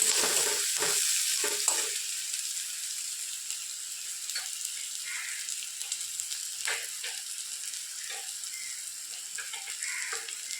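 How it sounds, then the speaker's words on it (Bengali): Onion frying in a pan with garlic, a bright continuous close sizzle with a few clinks of stirring early on, no one speaking. "একটা পেঁয়াজ নিয়েছি, পেঁয়াজটা দিয়ে দিলাম। সবগুলো ভেজে নেবো একসাথে।"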